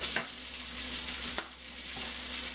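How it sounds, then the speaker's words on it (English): Bacon fries in a pan with a steady, quiet sizzle, broken by a few soft stirring clicks and scrapes, no voices over it. "it looks like my bacon is almost cooked over here"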